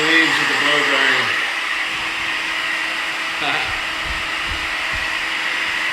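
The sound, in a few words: hair dryer blow drying a bob haircut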